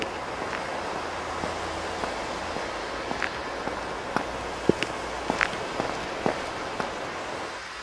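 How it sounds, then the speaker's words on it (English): Foley footsteps on concrete, played from a MIDI sampler, fall as a steady series of light taps over a continuous hissy wash that sounds like rain. "There are a couple sounds if you hear, especially one of my first concrete footsteps"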